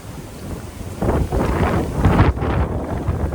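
Strong wind buffets a microphone outdoors in late winter, a loud, rumbling roar that swells in gusts and stays heavy throughout, with no voices.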